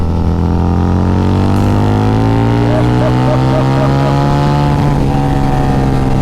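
A Harley-Davidson V-Rod Muscle with a TAB performance exhaust pulls hard through the gears, its deep, loud engine note climbing steadily with smooth harmonics and a brief dip at a shift near the end.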